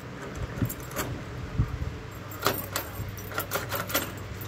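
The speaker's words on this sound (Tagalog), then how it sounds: "buksan natin siya gamit ang susi" A metal key rattles and jingles against a doorknob lock set in a hardiflex door, with scattered clicks and scraping as it is turned, fairly quiet over steady background noise.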